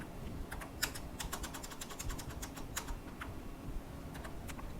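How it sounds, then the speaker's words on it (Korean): Quick, light clicks of a computer keyboard come in bursts of several keystrokes with brief pauses between them, close and fairly quiet, with no voices. "탭을 눌러서 맞춰볼게요."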